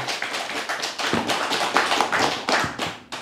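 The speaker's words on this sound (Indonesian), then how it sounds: "Tepuk tangan." A burst of rapid hand clapping from a group, steady and lively throughout, with no voices.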